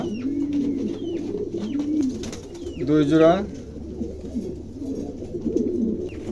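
Several pairs of Lahori pigeons, offered for sale, coo in low, repeated murmurs close by while someone talks over them.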